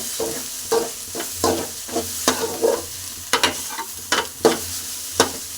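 Scrambled egg sizzles in a hot pan while a spatula stirs and scrapes it, giving loud, irregular scraping strokes over a steady frying hiss, close by, with no talking.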